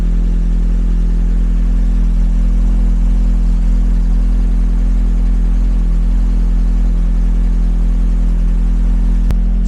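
A car engine idling steadily just after being fired up following fresh plugs and coolant, a loud, constant low hum with a deep droning tone and no revving, heard up close with no talk.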